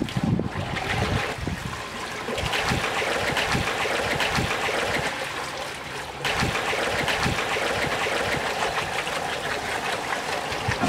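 A bucket of water is emptied to create a rushing head of water, giving a continuous splashing, gushing flow with a brief break partway through, fairly close and loud with no talking.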